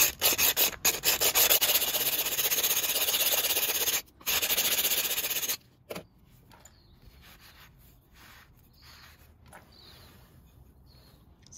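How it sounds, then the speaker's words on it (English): Wet stone rubbed along the freshly cut edge of a ceramic plate to take off small burrs, a close, steady gritty scraping for about five seconds, then a few softer, scattered strokes. "And then we just rub it to take those little burrs off."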